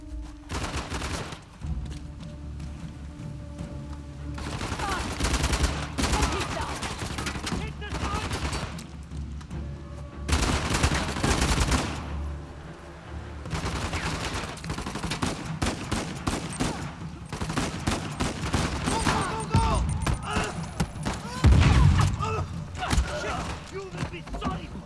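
Bursts of rapid gunfire and heavy volleys from the video game Uncharted: The Lost Legacy, loud and close, coming in several clusters over a rumbling action backdrop with scattered mechanical clicks.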